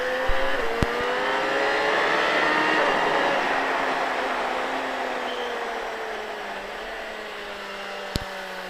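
A vehicle engine runs on a track under light, steady throttle, its pitch gradually rising and falling as it holds a close, continuous drone, with a couple of sharp clicks near the start and end.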